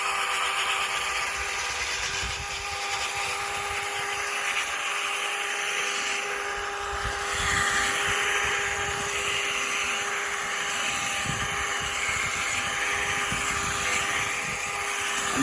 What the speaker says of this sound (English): Make sure we get it all sanded real good with this 1500.